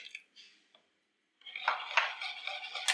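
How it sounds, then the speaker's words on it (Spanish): A hand whisk beats eggs and oil in a bowl for chocolate cake batter, a few light taps followed by a steady, fairly quiet clattering scrape of wire against the bowl. "Ahora batimos muy bien lo que son los huevos y el aceite."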